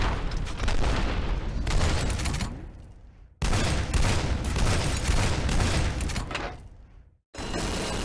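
Heavy automatic gunfire in F.E.A.R.: two long, loud bursts of rapid shots, each trailing off, with a brief gap between them and a third burst starting at the end.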